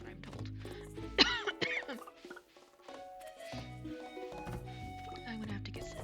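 A person coughs and clears their throat a few times at close range, with casual talk before and after the coughs.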